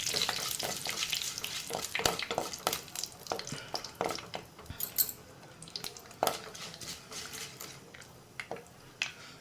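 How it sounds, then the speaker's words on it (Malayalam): Curry leaves fry in hot oil in a pan for a tuna fish dish, with a close, crackling sizzle broken by frequent scrapes and clinks of a spoon stirring against the metal. "കുറച്ച് കറിവേപ്പില, നമുക്കിതൊന്ന് മൂപ്പിച്ചെടുക്കണം."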